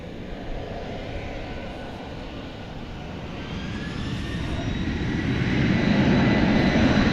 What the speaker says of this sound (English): Headed out there is the UPS flight to Louisville.